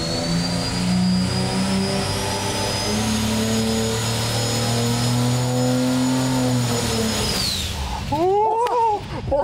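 A turbocharged Ford 300 inline six roars at high load on a dyno, a loud sustained tone with rising turbo whine that holds steady, then falls away as the engine lets off, followed by lighter clattering.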